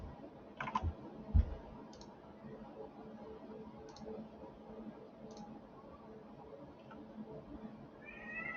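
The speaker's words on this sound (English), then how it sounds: "If y'all can hear that, that's my cat" A domestic cat meows faintly in the background of a quiet room, a few soft brief calls scattered over several seconds along with small clicks and a couple of sharper thumps.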